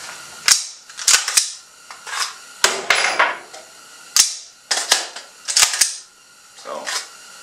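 Sharp metallic clacks of an AR-style rifle bolt slamming and locking to the rear on a Badger Ordnance enhanced bolt stop, repeated about a dozen times at an uneven pace, close and loud with no talk.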